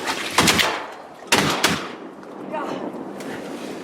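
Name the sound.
gunshot at a turkey during a youth hunt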